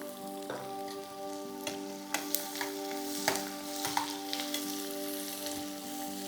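Mustard seeds splutter in hot oil with a steady sizzle and scattered sharp pops, heard close and alone while cashews and onion go in for raw mango chitranna.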